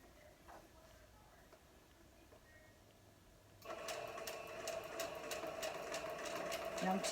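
A home sewing machine chain-pieces a Halloween quilt block; after a quiet stretch it starts up and runs in a steady, loud, rapid stitching rattle through the second half.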